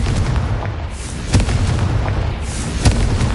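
A Confringo spell explodes in Hogwarts Legacy, two heavy booming bursts about a second and a half apart over a loud rumbling background.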